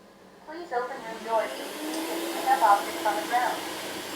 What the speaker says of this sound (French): on va faire le test des obstacles pour voir si notre robot aspirateur laveur les évite bien